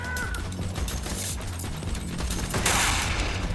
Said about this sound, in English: I'm still being shot